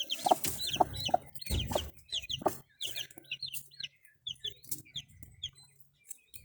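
Newly hatched Easter chicks, some of them crested and bearded, give rapid, high, repeated peeps close by. Their chirps overlap in a busy flurry and then thin out into shorter, scattered calls.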